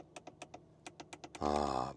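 Crisp plastic clicks from the buttons of a Renault Rafale's separate climate control unit, about ten quick presses close to the microphone, followed by a short burst of a voice.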